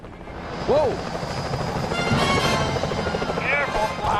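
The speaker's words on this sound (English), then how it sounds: "Those security choppers are bad news." Security helicopters in Sly Cooper Thieves in Time whir in a steady, loud rotor drone, with voices and brief whooshing game effects over it.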